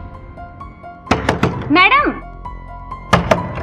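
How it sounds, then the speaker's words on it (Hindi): Someone knocks on a door with a quick cluster of dull, close thuds, pauses while a voice calls out, then knocks again with another short burst. "उस दिन हम उनका बहुत देर तक दरवाजा नॉक करते रहे।"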